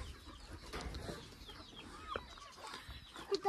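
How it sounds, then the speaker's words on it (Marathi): Free-range village chickens cluck softly and intermittently at a distance. The scattered calls sit over a quiet outdoor background with no talking. "गावठी कोंबड्या."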